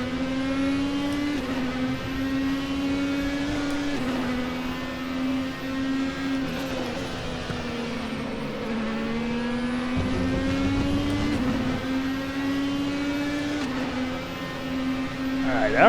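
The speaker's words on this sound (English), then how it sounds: "let you guys listen to the sounds of this turbocharged V6 engine" Turbocharged V6 race car engine in the RaceRoom racing game, on the Road America circuit, droning loudly and steadily throughout with rising and falling pitch as it revs through gears, close and continuous.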